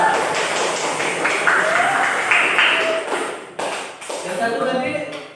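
A classroom of students clapping for a classmate, scattered and uneven applause with shuffling and thumps, mixed with voices and trailing off in bursts.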